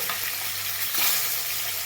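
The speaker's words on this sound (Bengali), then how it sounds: "মাছগুলো ভালো করে ভাজা হোক।" Close, continuous hiss and crackle of fish frying in oil, steady throughout with no voices.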